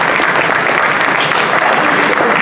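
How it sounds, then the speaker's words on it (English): A crowd at a high school football awards ceremony applauds a team, a dense, steady wash of clapping that stays loud and even from start to finish. "So let's give these guys applause one more time for that"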